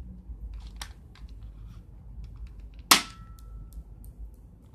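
A toy BB gun from an ice cream truck fires once with a sharp, sudden snap, loud against a quiet room with faint handling clicks before and after.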